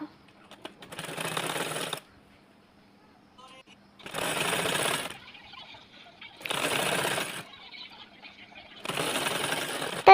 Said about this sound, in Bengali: এখন আমি এটাকে সেলাই দিয়ে নেব